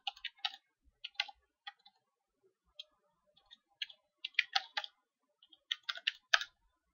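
Faint, close keystrokes come in irregular clusters on a computer keyboard, typed at a command prompt, with quiet pauses between the bursts and no talking.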